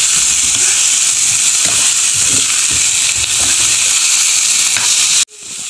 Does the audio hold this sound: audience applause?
no